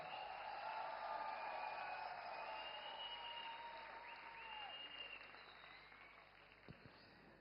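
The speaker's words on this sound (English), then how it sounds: "I want you all to cheer as loud as you can for all the players." A crowd at a roll ball match cheers and claps in a steady, distant roar that fades slightly toward the end, with a few faint whistles and a brief knock near the close.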